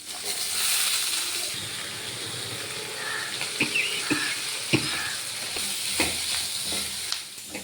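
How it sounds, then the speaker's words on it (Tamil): Onions and tomatoes sautéing in oil for sambar, a steady close sizzle with spoon stirring and scraping clicks through the pan, sharper knocks near the end. "வெங்காயம் தக்காளி வணக்கணும்."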